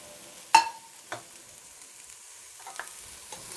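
Cabbage frying in a pan for chicken chow mein. A light background sizzle is punctuated by a few sharp utensil knocks, the loudest near the start.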